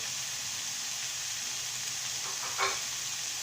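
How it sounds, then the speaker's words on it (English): Bacon sizzles in a pan of frying mushrooms for a quiche, a steady soft hiss with a brief stirring clatter near the end, and no voices. "fry a little bit. Now add the bacon."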